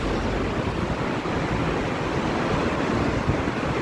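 A mountain waterfall in Kashmir beside a hillside road, a continuous broad roar of rushing water like ocean surf, steady and loud with no talking.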